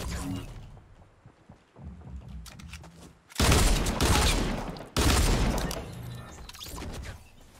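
Gunfire in Fortnite Battle Royale, starting as scattered quieter shots and then turning into loud bursts of dense, crashing fire with a brief gap between them, while a voice talks faintly in the background.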